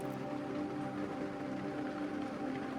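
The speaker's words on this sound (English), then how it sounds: "Something I got a lot of this week was rain." Steady rain patters continuously on a surface, a soft, even hiss with no pauses or other sounds.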